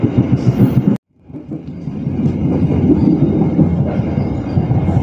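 Economy-class air-conditioned passenger train rumbling steadily along the rails between Cilegon and Pasar Senen, a loud close interior roar broken by a brief cut near one second before the running noise resumes.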